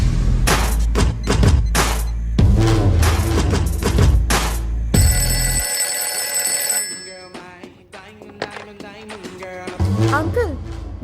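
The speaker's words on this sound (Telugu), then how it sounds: "అది ఫోన్ రింగ్ డాడీ." A telephone rings in a home, a short steady electronic tone burst heard midway after loud talking, with people speaking before and after the ring.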